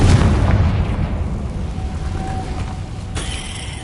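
A Confringo blasting spell in Hogwarts Legacy goes off as one loud booming explosion that rumbles and slowly fades, followed by a faint lingering ring and a short crackle.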